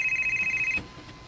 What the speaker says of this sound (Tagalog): Nanawag pa ni si Roger? Hello, Roger